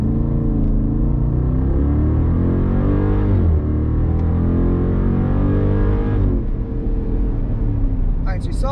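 A car accelerates hard at wide open throttle in auto mode without launch control. The engine note climbs steadily, drops at two upshifts, then builds again, loud and close throughout.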